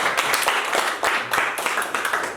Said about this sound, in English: I want the whole class to clap for these people.